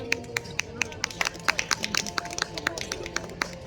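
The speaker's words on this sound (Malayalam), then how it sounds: "കൈയടി പോരാട്ടോ, നമ്മളുടെ ആഘോഷമാണ്." Audience applause at a 2025 Christmas celebration in a Kerala parish community, welcoming the vicar: scattered, uneven hand claps from a modest crowd, fairly close, with light talk underneath.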